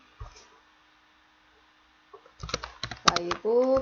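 A few soft computer keyboard key clicks sound near the start, then a voice begins talking with sharper typing taps mixed in.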